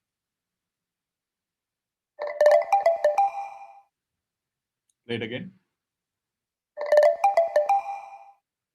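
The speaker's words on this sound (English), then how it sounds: "this was the mini Mogo tone that we created, which is like a notification alert, really." A short branded notification chime called the mini Mogo plays twice, a bright plucky run of clicky tonal notes, with a brief spoken remark between the two plays.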